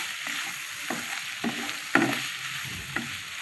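Soya chunks sautéing with salt in a pan, a soft continuous sizzle broken by several scraping stirs and one louder knock of the spatula, heard up close with no talking.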